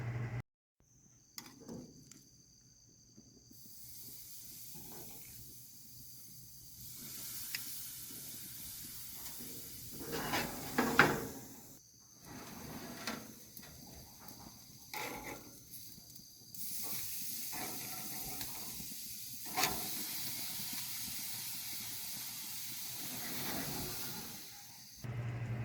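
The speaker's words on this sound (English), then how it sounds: "we're going to go ahead and let this sit and just simmer for just another minute or so" A pan sauce of shallots, garlic and thyme simmering on the stove, a soft continuous hiss and sizzle with occasional faint clinks and bubbles, fairly quiet throughout.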